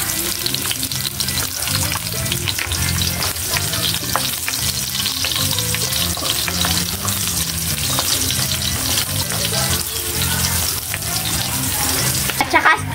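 Onions fry loudly in a hot pan for a spicy chicken dish, with dense, continuous close sizzling and crackling and occasional stirring scrapes throughout.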